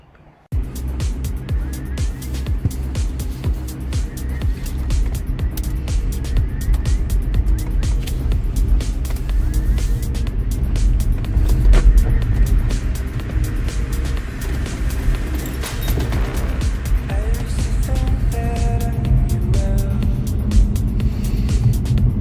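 A BMW 530e drives steadily along a road, its engine and tire rumble constant and fairly loud throughout, rising slightly at times.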